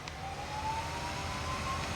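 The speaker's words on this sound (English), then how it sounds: "Sorry about the sirens in the background." A faint, steady emergency vehicle siren wails through a constant background rumble on a farm, distant and continuous throughout.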